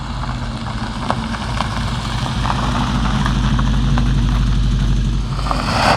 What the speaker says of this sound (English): we warm up the engine and then we will do some brake test